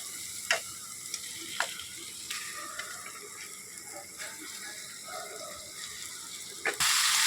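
Chicken sautés in oil with cooked-down spice masala, a low steady sizzle with a few sharp spoon taps and scrapes against the pan, close and moderately quiet, with a louder hiss at the end.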